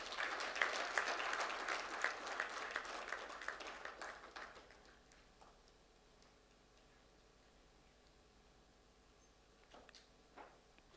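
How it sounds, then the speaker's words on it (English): Audience applause at a Constitution Day award ceremony at the Embassy of India in Kuwait: a burst of brisk clapping that fades out over several seconds, leaving quiet room tone and a few scattered claps at the end. "Please give a big round of applause."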